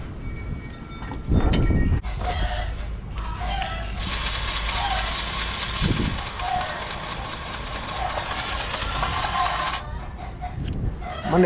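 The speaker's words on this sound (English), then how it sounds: "My neighbor has too many chickens." Chickens cluck and squawk in the background during truck maintenance, mixed with outdoor noise and a steady mechanical hiss; a few louder bursts stand out.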